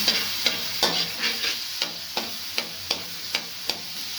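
Garlic and vegetables fry in a pan for chicken shashlik, a close steady sizzle punctuated by regular scraping stirs roughly every half second.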